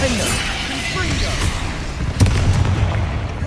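A Confringo blasting spell from a Harry Potter video game goes off loud and close as a sudden boom, with its rumble spreading over a dense, busy game backdrop.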